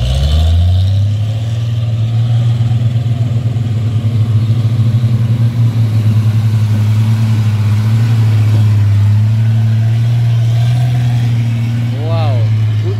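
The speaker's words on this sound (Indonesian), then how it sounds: "di sini satu unit truk Puso yang akan ditarik truk Puso Umplung" An old Fuso truck engine runs loud and steady for the whole stretch, a deep continuous drone while towing another truck on a steep climb, with a brief rising whine near the end.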